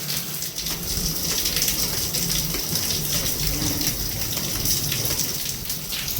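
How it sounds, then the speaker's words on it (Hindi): Heavy rain pours down steadily, a dense, close hiss of water spattering on surfaces with no break and no voices. "आज बारिश हो रहा है"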